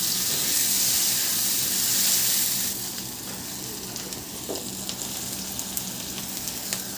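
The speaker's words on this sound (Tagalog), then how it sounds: "Igisa ko na rin yung sibuyas." Garlic and onion sautéing in reduced oil in a pan produce a loud, bright sizzle that eases to a steadier, softer fry partway through, with occasional stirring scrapes and no talk.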